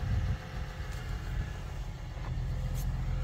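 Tractor engine running in gear while hitched to a KF seeder for planting a cover crop mix: a steady low diesel drone, fairly quiet and unbroken, with faint higher mechanical whine above it.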